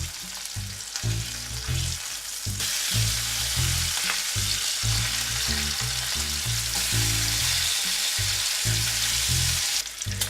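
Bacon frying in a Red Copper pan, a dense steady sizzle and crackle close up, with a rhythmic low pulsing underneath and no voices.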